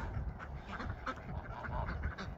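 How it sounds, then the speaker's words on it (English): Several ducks quack in scattered bursts, close by, over a steady low rumble of outdoor background noise. "Come on, Mumbles, get your ducks together."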